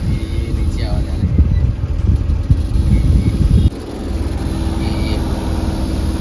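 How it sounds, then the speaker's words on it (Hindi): Steady air conditioning hum inside a Tata Nano car, a continuous low drone that dips slightly in level partway through, with faint voices in the background. "एसी की आवाज है"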